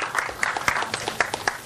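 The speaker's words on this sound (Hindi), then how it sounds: "सुमन, गुरमीत जी के लिए तालियां हो जाए यहाँ पर।" A stage audience at a Hindi film trailer launch greets a guest with brief, sparse clapping, a handful of distinct hand claps at uneven intervals rather than full, dense applause.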